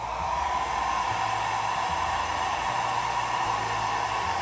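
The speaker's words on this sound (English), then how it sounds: "I'm gonna grab my blow dryer and on cool low" Blow dryer running on a cool, low setting during a drag makeup routine, a steady unbroken airy whoosh with a low motor hum, constant in level throughout and heard alone.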